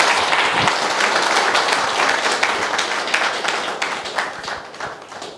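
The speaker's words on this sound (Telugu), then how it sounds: "మన కృతజ్ఞతలు మన చప్పట్లో తెలియజేయాలి." A seated audience at a pharma company motivational talk in Pydibhimavaram breaks into loud, sustained applause, dense clapping from many hands that slowly thins out toward the end.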